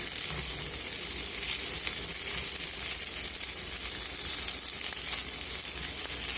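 A block of pad thai noodles heats in a little oil in a pan, giving a steady, dense sizzle that carries on unbroken and close throughout.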